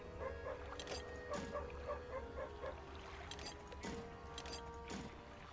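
Dog in the fishing video game Dredge, a faint string of small yips and whimpers over a quiet, steady game ambience, with a few sharp clicks and splashy sounds between them.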